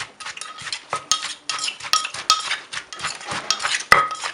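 A pestle pounds chopped cucumber and sliced shallots in a mortar for a Thai cucumber salad, a busy run of dull thuds mixed with clinking knocks, close and continuous, with no voices.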